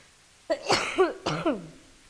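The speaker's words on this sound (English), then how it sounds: "I'm sorry, I'm trying not to cough." A person coughs, two short rough bursts about three-quarters of a second apart, close and fairly loud, with a faint room hush before and after.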